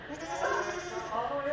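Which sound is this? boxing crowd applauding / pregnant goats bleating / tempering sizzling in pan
pregnant goats bleating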